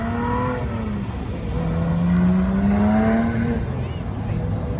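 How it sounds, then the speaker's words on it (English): A blue Porsche GT3 sports car pulls away at a car meet, its engine note rising and revving as it leaves, with people chatting nearby over the motor. "And a blue GT3 leaving right now."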